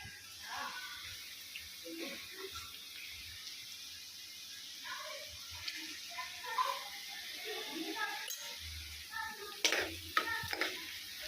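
Onions frying quietly in a pan as turmeric is added while cooking okra stew, with soft sizzling and occasional stirring clinks, and a person talking over it.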